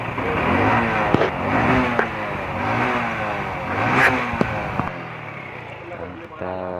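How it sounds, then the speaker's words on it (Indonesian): A Honda Revo FI motorcycle engine runs after a fuel pump adjustment, revving in repeated rising and falling bursts up close before dropping away, with a voice talking over it. "Kita coba hidupin motornya, ini sudah mencapai 40 nih teman-teman."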